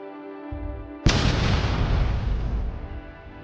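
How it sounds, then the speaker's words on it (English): A low engine rumble is cut by a sudden, loud landmine explosion whose deep roar and debris noise slowly fade over a few seconds. "The explosion sends smoke into the sky."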